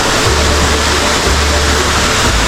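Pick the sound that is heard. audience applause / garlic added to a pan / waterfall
waterfall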